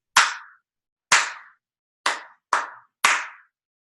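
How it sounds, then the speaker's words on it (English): Hands clap a simple rhythm during a cello lesson, five crisp, close claps with a long-long-short-short-long spacing in an otherwise quiet room. "then you would clap it back to me like this."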